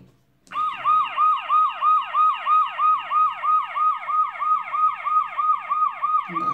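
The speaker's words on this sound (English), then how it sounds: "And that's the sound of the fire engine." Fire engine siren in a children's story, a loud two-tone wail cycling steadily up and down about every half second, close and alone throughout.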